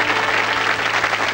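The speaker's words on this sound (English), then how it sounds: "Give them a round of applause, folks." A brief burst of studio audience applause on a 1985 game show, with dense, even clapping throughout at a moderately loud level.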